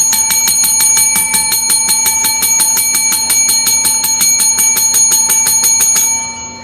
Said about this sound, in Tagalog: Sorry guys, medyo maingay talaga ako sa bell.